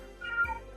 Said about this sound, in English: if you guys hear a cat in the background